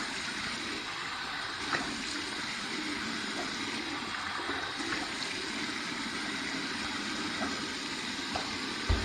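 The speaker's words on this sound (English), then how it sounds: "here's my warm water rinse" Soft running water with faint occasional splashes as warm water is splashed on a face to rinse after a shave, a continuous gentle trickle heard fairly quietly throughout.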